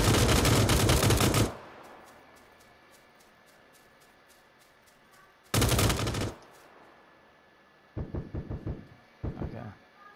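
SKS rifle gunfire in a video game: loud bursts of rapid shots at the start and again mid-clip, followed by several shorter volleys near the end, with quiet gaps between.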